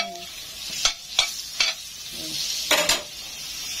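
Butter melting in a hot pan for a shrimp dish: a soft, steady sizzle with several distinct scrapes and taps from a utensil stirring, close and clear, no talking.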